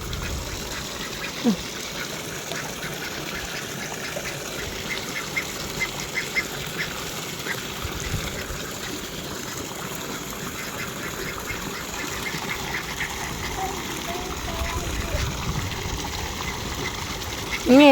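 Ducks quack intermittently nearby over soft splashing water in a bathing basin, with a low background hum and occasional faint voices.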